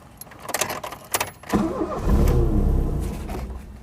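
A 1982 Ford Escort Mk3 with a 1.3L engine and an automatic choke, first a few scattered clicks and knocks, then the engine catches and runs with a loud, rough mid-pitched drone that swells, close to the microphone.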